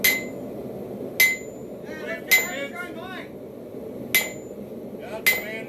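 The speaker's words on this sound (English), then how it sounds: "Can you handle that hammer?" Blacksmith's 3.25-pound hammer striking a hot railroad spike during knifemaking, five sharp metallic strikes spaced roughly a second apart, ringing briefly over a low background rumble, with a voice murmuring between blows.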